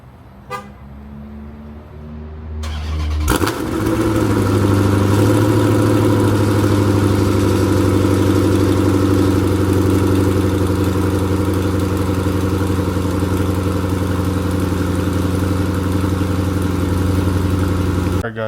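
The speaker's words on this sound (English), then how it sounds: "I'm gonna give you guys a quick little cold start." Quiet at first, then an SRT8 car engine cold-starts, cranking and catching in a shop, settling into a loud, steady idle that runs on without letting up.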